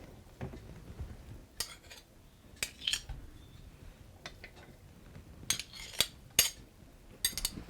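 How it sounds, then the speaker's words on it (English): A spoon scoops coconut oil into a Dutch oven, producing scattered light metallic clinks and scrapes against the pot, irregular and fairly quiet, with soft gaps between the taps and no speech. "We're going to get a couple tablespoons of coconut oil into our pot"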